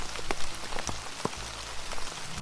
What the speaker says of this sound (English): The rain began to fall softly on the flowers.